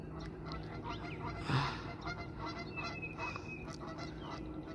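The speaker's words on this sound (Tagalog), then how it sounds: "Andito na naman yung mga geese." A single honk from a goose rises briefly over steady outdoor background noise, fairly distant and soft.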